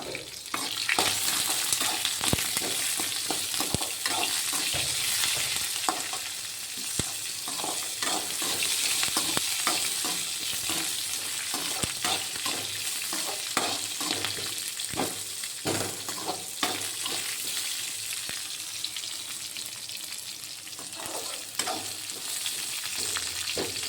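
Green chillies and onion sauté in a pan with a constant busy crackle of hot oil, punctuated by frequent close taps and scrapes of stirring.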